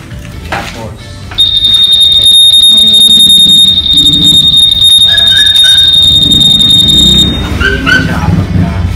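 Anti-theft alarm on a 2019 white Honda Click 150i scooter blares a loud, steady high-pitched electronic tone for about six seconds with warbling chirps, amid background speech and clatter.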